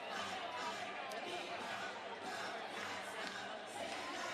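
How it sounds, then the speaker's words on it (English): Baseball stadium crowd at Wilson's Group Stadium giving a mocking Bronx cheer, a broad, steady wash of distant voices and jeers, with the murmur holding evenly throughout. "a bit of a Bronx cheer from the crowd here at Wilson's Group Stadium"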